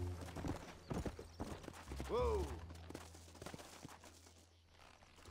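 Horse hooves clip-clop in the Red Dead Redemption video game, a steady walking rhythm under game sounds, with a brief whinny midway.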